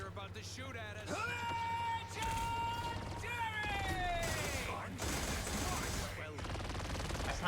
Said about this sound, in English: Those guys are about to shoot at us.